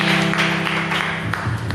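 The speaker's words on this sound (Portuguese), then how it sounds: "Dá uma salva de palmas para Jesus, pastor Gilson." Church congregation clapping together during an evening worship service, a dense, steady wash of applause over a low room hum and sustained tones, moderately loud and continuous throughout.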